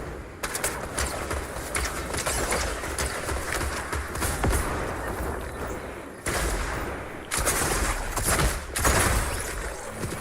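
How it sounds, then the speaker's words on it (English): Rapid bursts of shotgun and rifle fire in an online shooter game match, loud and close, with brief pauses between volleys. "Stop shooting at me."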